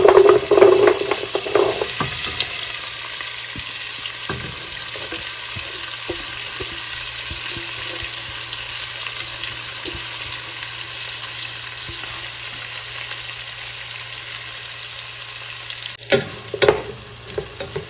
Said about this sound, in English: now it's time to saute the vegetables